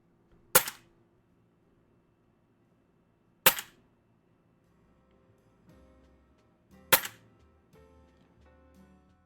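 Three sharp, isolated shots from an Umarex Notos air rifle firing pellets after a bottle conversion, evenly spaced about three seconds apart, close and crisp with quiet handling noise between them.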